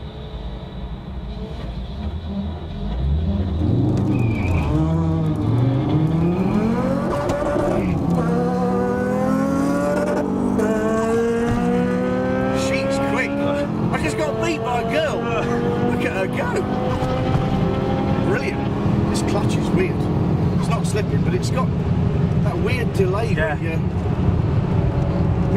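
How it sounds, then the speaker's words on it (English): Fiat Coupé Turbo engine revving hard with rising turbo spool, pitch climbing steadily through the gears as it pulls, loud and continuous from inside the car, with voices talking over it. "Oh, he's spooling his turbo up in the other lane."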